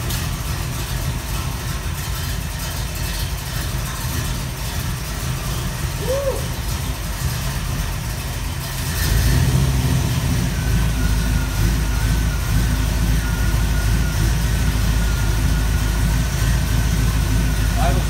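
A small engine idles steadily up close, a continuous low rumble whose pitch and level shift slightly partway through as the idle is adjusted, with a person talking over it.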